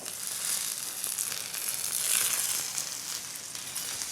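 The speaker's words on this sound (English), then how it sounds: "I love the little sizzling sound that makes." Fresh thyme and garlic cloves sizzle steadily in a hot pan, a dense, continuous hiss and crackle of frying at close range, holding fairly even throughout with no voices.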